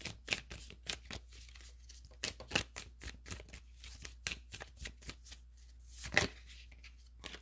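Small oracle cards being shuffled by hand, a quiet series of crisp, irregular riffling flicks and slaps close by, with no talking.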